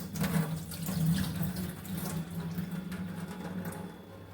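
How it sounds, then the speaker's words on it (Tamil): Liver being rinsed under a running kitchen tap, a steady close stream of water splashing into a sink bowl throughout, with no talking. "ரெண்டாவது வாட்டி அலசுறேன்."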